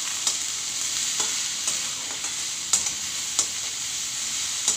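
Vegetables with turmeric powder frying in a pan, a steady close hiss of sizzling oil with a few sharp scrapes of a spoon stirring at intervals, no voices.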